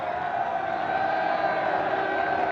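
Crowd gathered on a jetty at Nouméa, heard in old archive film as a steady, dense murmur with faint cheering, continuous and moderately loud throughout.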